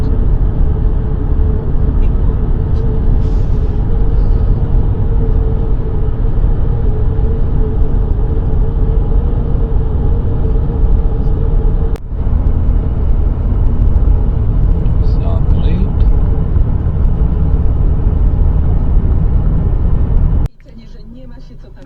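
A car cruises a long highway through Poland, its steady engine and tyre rumble droning loudly and evenly, dipping briefly near the end.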